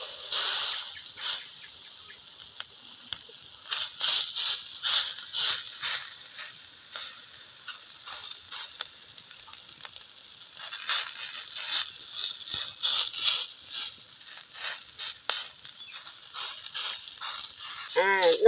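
Green gram adai batter being patted out on a hot griddle, a continuous crackling sizzle with irregular bursts of spattering throughout, fairly loud and close.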